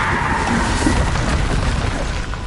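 Loud, booming explosion of the Bombarda spell in Hogwarts Legacy, a thick sustained blast with crumbling debris that holds through the whole stretch and fades slightly at the end.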